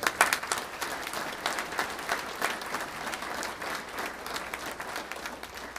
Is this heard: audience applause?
yes